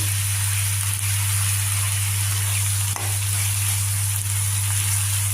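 Soaked, drained moong dal and curry leaves hiss and sizzle in a hot oil tempering for a fenugreek-leaf dal curry, a loud, steady frying sound with a low background hum and no talk.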